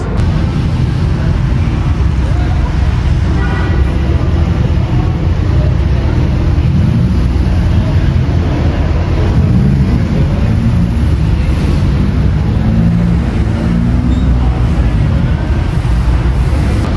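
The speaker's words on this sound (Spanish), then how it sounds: "Vean nada más lo que va llegando amigos, McLaren, Audi, por ahí un Ferrari, Lambo, Porsche" Exotic sports cars including a McLaren, Audi, Ferrari, Lamborghini and Porsche arriving at a night gathering in Mexico: a loud, continuous low engine and traffic rumble with wind buffeting, steady throughout.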